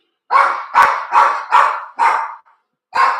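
A dog barks six times in fairly quick succession, loud and close, with a short gap before the last bark, reacting to a vacuum cleaner elsewhere in the home.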